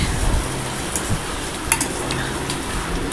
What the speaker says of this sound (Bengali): আদা দিয়ে নাড়ানাড়ি করছি একটু একটু